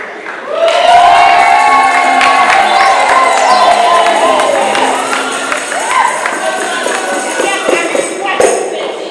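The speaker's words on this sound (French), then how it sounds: "Vous pouvez les applaudir encore plus fort." Wedding guests cheer and shout at a religious wedding ceremony, a loud, sustained crowd roar with voices rising over it, easing slightly toward the end amid scattered claps.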